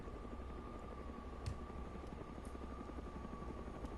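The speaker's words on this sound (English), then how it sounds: "And there's a friggin' helicopter." A helicopter flies overhead in the survival game DayZ, its rotor beating as a steady, loud, continuous drone that stays constant throughout with no voices.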